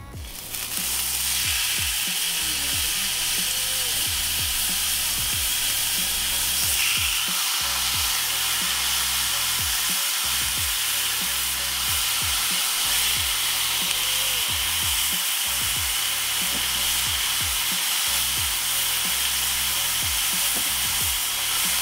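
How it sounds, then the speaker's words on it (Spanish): Carne asada for nachos sizzles on a grill, a loud, steady frying hiss that runs unbroken for the whole stretch with no voices over it. "Voy a empezar a agregar carne."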